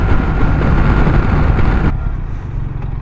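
A BMW R1300RS motorcycle engine drones loud and close while riding, with a sudden drop in pitch and intensity partway through as the gear changes, wind rushing over the microphone.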